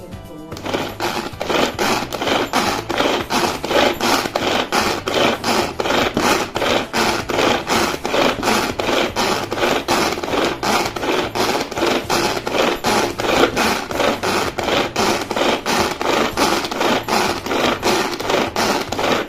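A Crest manual kitchen chopper chopping onion gives a steady, fast rhythmic ratcheting whirr, loud and close, as the pull cord is worked continuously for the whole stretch.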